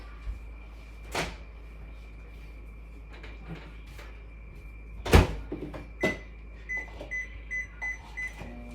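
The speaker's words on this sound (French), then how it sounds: "Ça fait que je vais placer tout ceci dedans le four micro-ondes maintenant." Food is placed into a microwave oven in a home kitchen: the door thumps open and shut with a few sharp knocks and clatters, followed by a series of short electronic beeps as the oven is set.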